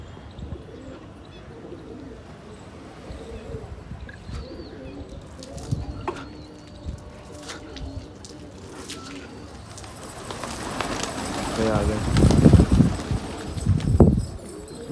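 Fighting pigeons cooing and fluttering outdoors, soft scattered calls and wing flaps at a moderate distance, with faint background noise and a louder burst of activity near the end.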